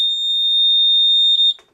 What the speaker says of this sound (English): with just a couple wires, a battery, and a buzzer, you're done.